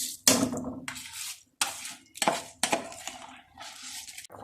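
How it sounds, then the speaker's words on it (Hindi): Rice poured into a pot of boiling water for Kabuli (Afghani chicken) pulao gives several sharp, close clattering and clinking bursts separated by short pauses. "अब मैं चावल डालने लगी हूँ।"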